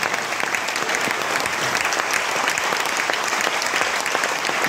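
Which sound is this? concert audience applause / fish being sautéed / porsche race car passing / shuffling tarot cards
concert audience applause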